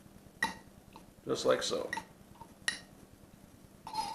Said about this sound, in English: go ahead and crush these in the bottom of the glass